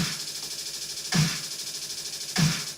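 A drum beat programmed in FL Studio plays at a doubled pattern, with two punchy, loud hits about a second apart over a softer, steady rhythmic pulse, with no voices.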